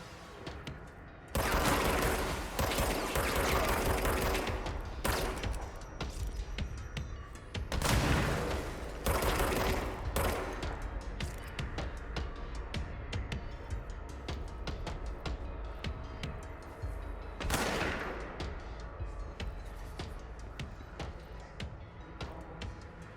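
Heavy gunfire in the video game Control comes as loud sustained bursts that start abruptly, ease off and then return, with sharp cracks and clattering scattered between the volleys across a long stretch.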